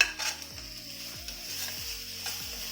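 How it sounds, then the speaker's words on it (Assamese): Chopped tomatoes sizzle in a frying pan with a soft, steady hiss, and a faint recurring falling tone repeats in the background; no talking. "এই বিলাহীখিনিও মই ইয়াতে দি দিছোঁ।"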